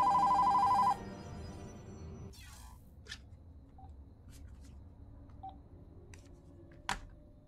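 A phone in a room rings once in a loud, steady electronic burst during a video game session. It cuts off after about a second, leaving a quiet room with a few faint clicks.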